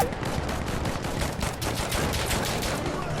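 An AK105 Zenitco rifle fires rapid bursts in the video game Insurgency: Sandstorm, a dense rattle of closely spaced shots that continues through the clip at moderate level.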